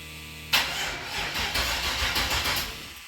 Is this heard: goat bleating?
no